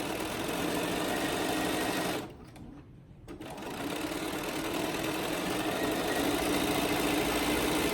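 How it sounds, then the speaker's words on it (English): Sewing machine top stitching along the edge of a fabric face mask, a steady close mechanical whir that stops briefly partway through, then resumes and runs continuously. "Just top stitch along the top and the bottom"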